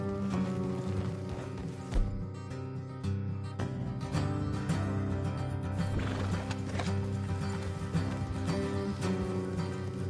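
Horses whinny and hooves clip-clop over a dense, steady game soundtrack, with a sharp neigh standing out near the start.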